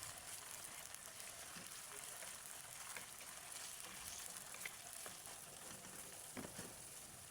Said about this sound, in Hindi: इसमें आधा कप ऑयल डाल देंगे और ये चिकन को फ्राई कर लेंगे थोड़ा सा गोल्डन होने तक